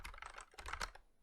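Quick, light keystrokes on a computer keyboard tap out a short burst of rapid clicks, close and quiet, with no voices.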